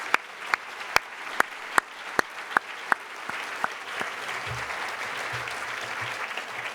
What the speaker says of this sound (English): So I think we should give them a round of applause as well